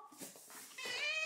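A cat meows several times up close in a home, the cries rising and growing louder toward the end as it waits to be fed a treat.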